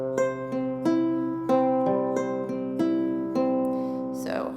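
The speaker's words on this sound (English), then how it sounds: "I'm really only plucking the harp string on beat 1 of each measure" A ukulele fitted with a harp string is fingerpicked: a low plucked harp note starts each measure, followed by a steady rolling ukulele pattern of bright ringing notes, played alone and fairly quiet.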